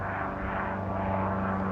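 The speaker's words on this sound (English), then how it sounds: "Sorry, the planes." Airplanes passing overhead make a steady, loud droning engine rumble with a low hum that swells slightly, continuous throughout, with no voices.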